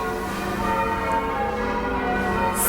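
Church bells ring changes in Cambridge, a dense, steady wash of overlapping bell tones sustained throughout, resonant and fairly loud with no speech.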